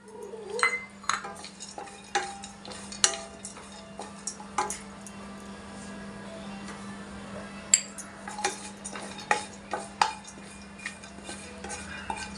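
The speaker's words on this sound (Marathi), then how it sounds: "त्याच्यानंतर आपण काजू परतून घेऊया." Cashews being stirred and roasted in a pan for kheer, with a spoon scraping and clicking against the metal at irregular intervals over a low steady hum and faint sizzle, no talking.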